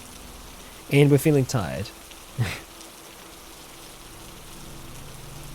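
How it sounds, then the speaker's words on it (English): Rain begins falling in the survival game Cataclysm: Dark Days Ahead, a soft, steady hiss running under a voice and continuing alone once he stops. "And it's starting to rain now."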